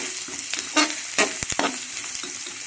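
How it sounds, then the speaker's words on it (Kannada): Cumin seeds dropped into already-fried mustard seeds in hot oil for a ridge gourd chutney crackle and hiss, with a few louder scraping bursts as the pan is stirred, close up and without talking. "ಇದಕ್ಕೆ ನಾನು ಜೀರಿಗೆ ಸೇರಿಸ್ಕೊಂಡು ಇದನ್ನು ಸ್ವಲ್ಪ ಕೈ ಆಡಿಸ್ತೀನಿ"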